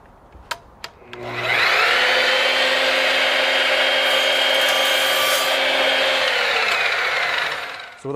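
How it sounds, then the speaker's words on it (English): A miter saw spins up and cuts small pieces of wood for a picture frame, a loud, steady high whine lasting several seconds after a few light clicks, then winding down. "I have a miter saw, but as long as it cuts nice square corners"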